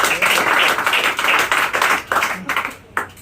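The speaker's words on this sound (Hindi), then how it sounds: "एक बार इस जादू के पिटारे के लिए जोरदार ताली बजा दीजिए" An audience claps enthusiastically at an RCM Business motivational seminar, with a burst of brisk, dense applause that thins and tapers off into a few scattered claps at the end.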